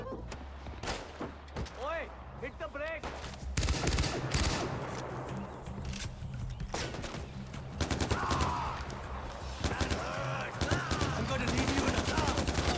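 Gunfire rattles in Far Cry 4 on Xbox Series S: bursts of rapid automatic shots, loud and close, alongside in-game voices and a player talking over the action.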